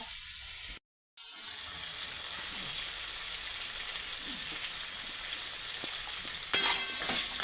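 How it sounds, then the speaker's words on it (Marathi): Potatoes frying in spice masala in a home kitchen pan, a steady close sizzle with stirring scrapes, broken by a brief dropout near the start and a louder splash of activity toward the end. "चांगले बटाटे मसाल्यामध्ये फ्राय होऊन द्यायचे"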